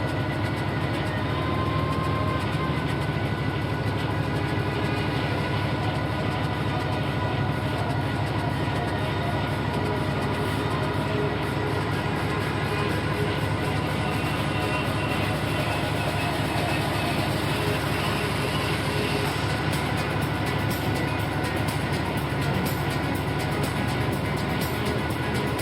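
A heavily loaded Class 66 diesel locomotive in Train Sim World 5 builds speed very slowly on throttle notch six, with a loud, steady engine drone and rail rumble that holds without a break.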